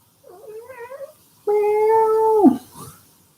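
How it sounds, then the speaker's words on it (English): A house cat meows twice up close, a short wavering call followed by a longer, louder sustained meow that drops off at the end, in an otherwise quiet room. "My cat's here."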